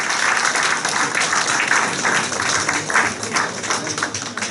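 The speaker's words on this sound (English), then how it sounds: "A round of applause for her" Audience applause at a London community leadership award ceremony, given for the Mayor of Ankara's representative: dense, steady clapping from a crowd, loud and sustained throughout with no break.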